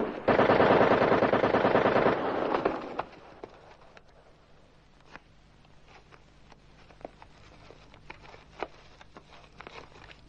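Machine-gun fire in a 1971 Yugoslav war film rattles in a loud, rapid burst for about two seconds. It then gives way to scattered, fainter single shots and crackling that continue at irregular intervals.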